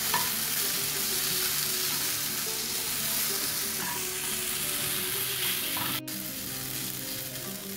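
Chopped tomato and green chili sauté in a hot pan for a Malabar stuffed chicken gravy, giving a steady, close sizzle with occasional stirring scrapes and one sharp knock near the end.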